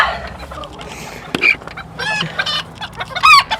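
A blue-legged breeding hen clucks close by in short, separate bursts, a few throaty calls coming more quickly toward the end. No one speaks.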